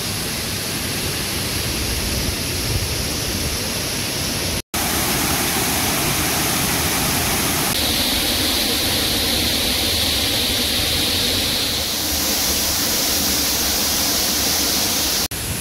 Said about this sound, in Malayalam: കാണാൻ നല്ല രസമുള്ളൊരു വെള്ളച്ചാട്ടമാണ്